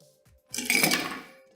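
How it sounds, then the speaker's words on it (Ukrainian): Ice cubes clatter into a cocktail glass in one short burst of clinks and rattles that trails off quickly, close and fairly loud, with no talking. "Додаю в келих лід"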